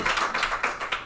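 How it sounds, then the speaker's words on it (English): Clapping at a fall graduation ceremony, a short run of about five distinct claps in an even rhythm, moderately loud and close. "You can clap, that's good."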